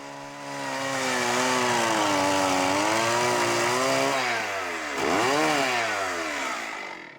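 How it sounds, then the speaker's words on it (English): A bench saw chamfers the corners off a wooden Indian club blank before turning, its motor holding a loud, steady whine throughout with a brief dip and pitch swing as the blade cuts. "Finally, the corner excess was trimmed on a bench saw, chamfering the corners in final preparation for turning."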